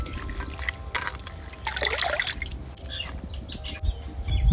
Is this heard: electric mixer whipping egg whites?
no